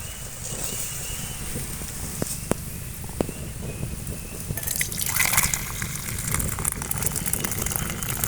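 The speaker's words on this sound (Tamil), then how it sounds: "நம்ம இறக்கி இந்த தண்ணியை மட்டும் இருத்துக்கலாம்" Boiled mudakathan keerai greens strained in a home kitchen, the green cooking water pouring and trickling steadily through a strainer, with a few sharp clinks of the vessel and a louder gush partway through.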